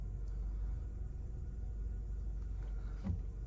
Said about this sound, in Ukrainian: Автомобіль заводиться з півоберту.